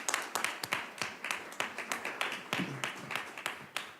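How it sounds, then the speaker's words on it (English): A small audience at a school board meeting claps in a thin, scattered patter, individual hand claps distinct and fairly quiet throughout. "You can clap for that."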